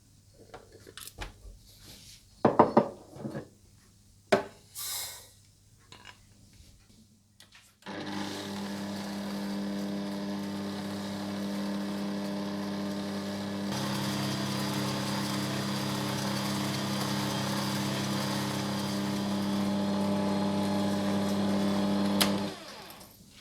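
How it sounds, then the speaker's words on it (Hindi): An electric mixer beats butter and caster sugar for almond cake batter, a steady loud motor whir running unbroken for the second half, after a few scattered knocks and clatters at the start. "इसके बाद मक्खन डाल लें और इसमें कैस्टर शुगर डालकर अच्छी तरह से बीट कर लें।"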